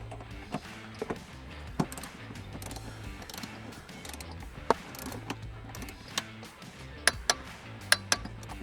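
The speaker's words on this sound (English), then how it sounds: "We're going to torque everything to 33 foot-pounds." A ratchet torque wrench tightens seat riser bolts to 33 foot-pounds, giving a soft ongoing mechanical ticking broken by a few sharp, louder clicks near the end, close up and without speech.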